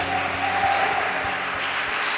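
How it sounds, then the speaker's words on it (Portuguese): A church congregation applauds loudly during a worship service, a continuous, even roar of clapping with a faint sustained tone beneath it. "vamos aplaudir o Senhor bem forte"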